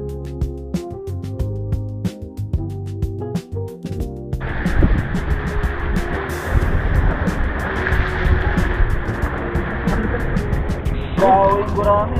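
Waves at a beach: a loud, steady broadband wash of surf that takes over after a brief musical passage, with some wind-like roar and hints of voices.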